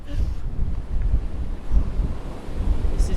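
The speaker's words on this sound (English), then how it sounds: "This is very, very windy." Strong wind buffeting across open moorland at Torside in Longdendale, heavy low gusty rumble hitting the microphone in surges, loud and continuous with no voices.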